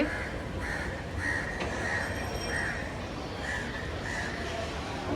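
Crows caw repeatedly, harsh calls spaced in a loose rhythm over a constant loud background rumble.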